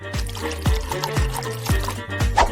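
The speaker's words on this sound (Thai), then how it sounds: "จากนั้นก็เทน้ำลงไป" Water is poured into a bowl in a kitchen, a continuous splashing trickle with repeated low gulping pulses, heard close and steady with no one speaking.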